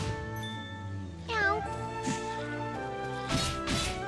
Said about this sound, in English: another cat. I didn't expect to meet a cat here.